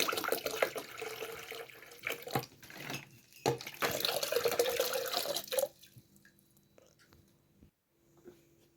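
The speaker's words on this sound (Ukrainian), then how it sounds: "вливаю воду цього разу з крана, так що вона жорстка" Hard tap water pouring into a white 1.8-litre Liberton LEK-6824 electric kettle, a loud close splashing rush for several seconds that stops abruptly, leaving faint drips and quiet room noise.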